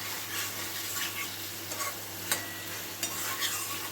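Onion frying in a pan sizzles steadily after a little water is added. It is quiet and close, with occasional sharp clicks of a spoon stirring and scraping the pan.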